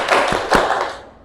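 A class of students clapping hands in rhythm, a couple of sharp group claps close by, followed by a short fading tail.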